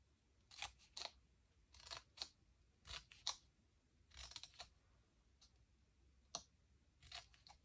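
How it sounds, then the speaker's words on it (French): Scissors snipping paper at a slant for a photo-holder calendar craft, a series of short crisp cuts in irregular bursts, close and fairly quiet, with no talking. "nous allons couper légèrement en biaisant"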